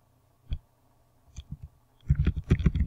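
Keys clicking on a computer keyboard during a search: a lone tap, a few scattered clicks, then a quick run of dense typing, heard up close and fairly loud with no voices.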